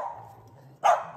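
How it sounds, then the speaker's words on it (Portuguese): A single sharp dog bark sounds close by after a quiet moment, loud and brief, with faint background noise around it. "a Marina para de latir"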